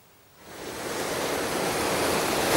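Water released from Lake Arpi flowing into Karnut reservoir, a broad, steady rush that swells in quickly and stays loud and continuous with no voices.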